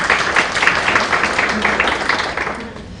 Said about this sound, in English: Maybe you give them a warm welcome,